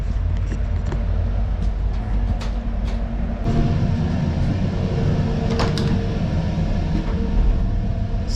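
A moving train heard from inside its toilet cubicle: a loud, steady low rumble and rattle of wheels and carriage, with occasional clicks and knocks over the constant roar.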